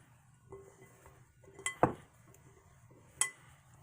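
Antipasto salad with pepperoni, ham and cheeses being tossed in a bowl: soft scattered clinks of utensils against dishware, with a couple of sharper, brighter clanks standing out in a quiet kitchen.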